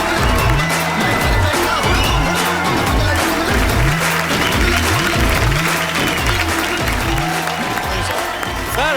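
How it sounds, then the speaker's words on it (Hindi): Studio audience applause on a TV comedy show fills the space, dense clapping over a loud, repeating low rhythmic musical pattern, with no distinct speech. "आप सबकी तालियों के बीच इनवाइट करना चाहूंगा मिस्टर उमंग कुमार को।"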